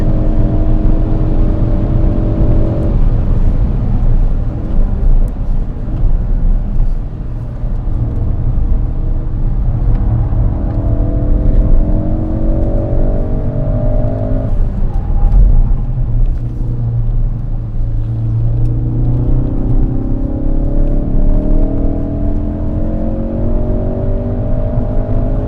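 Ford Focus RS driving hard on the Goodwood track, a loud continuous engine roar from inside the cabin with repeated rising rev sweeps through gear changes over heavy rumble.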